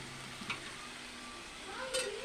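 Cumin seeds sizzle faintly in hot oil, a steady soft frying hiss with a couple of brief stirring clicks, no voice over it.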